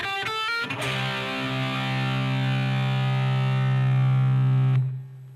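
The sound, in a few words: electric guitar third fill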